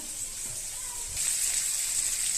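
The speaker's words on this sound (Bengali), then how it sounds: "এগুলো আমি ভালো করে ধুয়ে নিব" Fish is rinsed under water, producing a soft, steady, close gush and slosh that swells slightly partway through.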